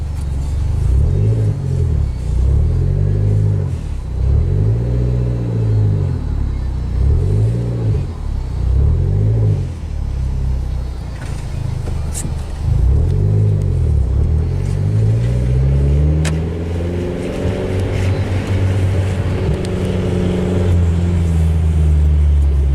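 A tuned Hyundai Genesis Coupe engine rumbles and revs in repeated bursts, its throaty exhaust swelling and falling, then a longer rising rev near the end, loud and close.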